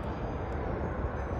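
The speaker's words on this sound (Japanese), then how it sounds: "で私が乗る 電車が入ってまいりました。" A steady, broad rumbling roar of a train pulling into Tokyo Station, loud and continuous with no voices over it.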